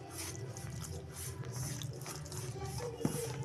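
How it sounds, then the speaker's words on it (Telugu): Fresh tap water trickles and splashes while flour dough for sweet flatbreads is mixed by hand, a soft, continuous wet sound close by with a slight low hum underneath and one brief knock near the end. "కొన్ని నీళ్ళు పోసుకుంటూ కలపాలి."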